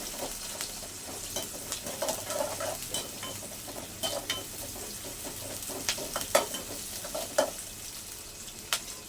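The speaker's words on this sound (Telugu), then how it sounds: "ఇప్పుడు కట్ చేసి పెట్టుకున్న ఆనియన్స్ ఇంట్లో వేసేసుకొని దోరగా వేయించుకోవాలి" Chopped onions hit hot oil with mustard seeds, crackling and sizzling steadily in the pan, with frequent sharp pops and light scraping stirs of a spoon.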